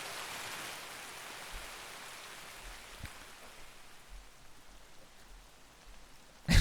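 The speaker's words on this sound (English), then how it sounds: "It's like rain in your Tarkov game." Rain falls in the video game Escape from Tarkov, a steady hiss of downpour that fills the scene evenly and fades slightly toward the end, with no talk over it.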